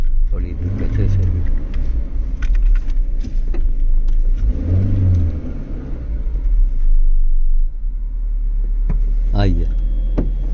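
A car drives along a road with a steady low engine rumble and occasional revving throughout, while people talk inside the vehicle.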